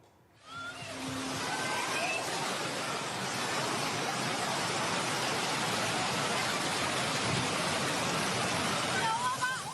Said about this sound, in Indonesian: hujan deras mengguyur wilayah Ngalian